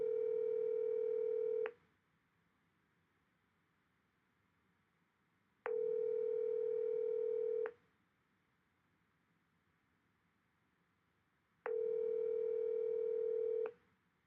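A telephone ringback tone during a call to someone's father: three steady buzzing rings, each about two seconds long, separated by silent four-second gaps, clear and alone.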